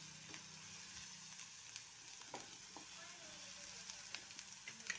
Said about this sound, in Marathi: आता मी त्यात आलं लसूणची पेस्ट घालून घेते. ते एखादा मिनिट छान भाजून घ्यायची